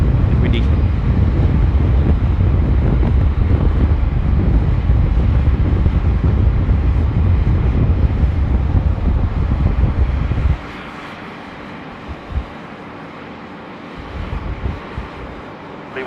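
Heavy wind buffets the microphone at Sydney Airport with a loud, roaring rumble that cuts off abruptly, leaving a quieter background with a few faint bumps.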